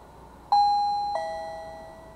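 A SECRUI wireless doorbell chime sounds a clear two-tone ding-dong, the second note following about half a second later and both ringing out and fading in a quiet room.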